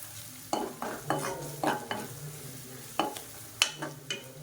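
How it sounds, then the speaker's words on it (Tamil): Spices for an egg curry sizzle and crackle in hot oil while being stirred, with scraping strokes against the pan every half second or so, close and moderately loud. "இப்போ இதை வந்து லேசாக எண்ணெயில் பரட்டி விட்டுக்கலாம்"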